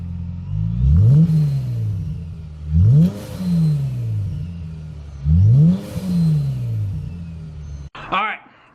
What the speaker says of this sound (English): The exhaust is badass. It's got a perfect little rumble.